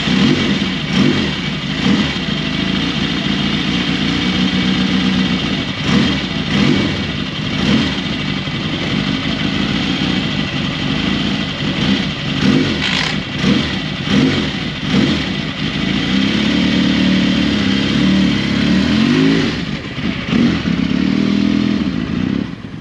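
A 1974 Laverda 750 SFC motorcycle engine, freshly rebuilt, runs loudly and steadily close by for the whole stretch, with rough rumbling, mechanical clatter and a few swelling revs, and no talking over it.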